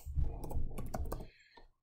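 A short burst of typing on a computer keyboard as fake login details are entered: a quick, close cluster of soft key clicks that stops abruptly after about a second and a half.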